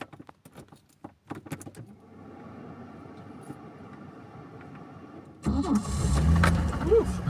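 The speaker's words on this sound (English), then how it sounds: "I usually get excited whenever I crank this engine and the way it starts" A vintage Peugeot 505 V6 cranks after sitting for months, then catches and settles into a loud, steady running note close by; faint clinks and a quiet voice come before the cranking.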